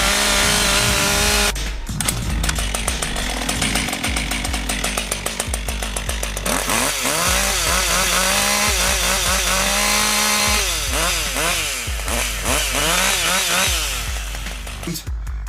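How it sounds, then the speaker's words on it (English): A brand-new Husqvarna 555 chainsaw engine runs loud and close, revving up and down repeatedly with a buzzing, rising-and-falling whine throughout. "we're gonna do a little bit of a test drive on my brand new Husqvarna 555 chainsaw"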